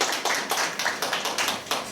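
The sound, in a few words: audience applause welcoming guests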